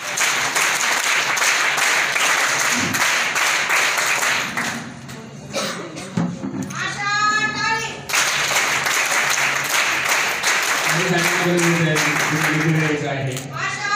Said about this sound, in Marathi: शिवाजी शेठ प्रतिमा घोषित करताना टाळ्या झाल्या पाहिजे